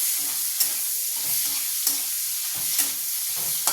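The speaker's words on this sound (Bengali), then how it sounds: "পেঁয়াজটা দিয়ে একটু নাড়িয়ে চাড়িয়ে" Onions frying in a pan with whole cumin seeds while being stirred, a steady bright sizzle broken by repeated scraping strokes of a spoon, close and without talk.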